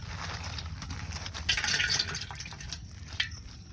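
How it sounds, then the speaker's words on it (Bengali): Leafy greens being washed by hand in water in a home kitchen, with steady splashing, dripping and trickling close by and a brief louder gush midway, no talk. "ভালো করে দেখো পাতাগুলোকে ধুয়ে"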